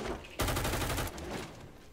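Rapid burst of gunfire in the video game Firewall Ultra, a loud close volley of shots starting abruptly and trailing off after about a second, with no talking.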